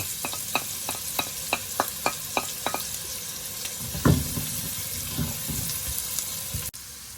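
Garlic sizzles in a hot pan for Kapampangan chicken asado, with a steady frying hiss and a row of light, rhythmic utensil taps as it is stirred, close by and fairly quiet, then a louder scrape.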